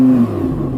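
Audi R8 with its V10 engine revving while parked, a short loud throttle blip that rises and then drops back toward idle, with no talking over it.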